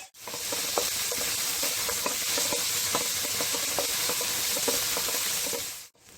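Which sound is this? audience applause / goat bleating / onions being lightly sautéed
onions being lightly sautéed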